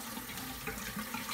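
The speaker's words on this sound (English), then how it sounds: "Sorry, I got the water running while I'm talking." Water runs steadily from a bathroom tap during a wet shave, a constant close rushing splash with no talk over it.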